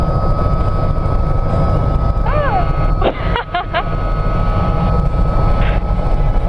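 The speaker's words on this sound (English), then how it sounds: "we're gonna lift off straight off the ground here, and we're gonna do a little left pedal turn into the wind, and we'll take off" A helicopter on a Royal Gorge flight runs with a loud, steady engine and rotor drone up close, broken by a few brief chirping sounds midway.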